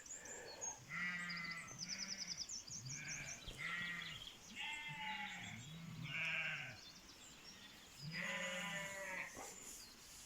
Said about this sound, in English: I've been overrun with sheep.